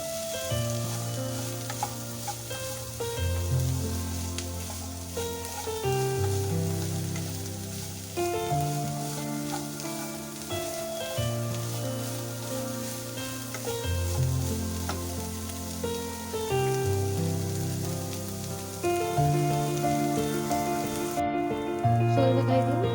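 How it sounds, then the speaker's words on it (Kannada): Onions sizzle in a pan for a paneer ghee roast, a steady, close frying crackle with occasional stirring, while music plays alongside throughout. "ನೆಕ್ಸ್ಟು ಈರುಳ್ಳಿ ಫ್ರೈ ಮಾಡ್ಕೊಳ್ತೀನಿ. Full fry ಆಗಬೇಕಿದು."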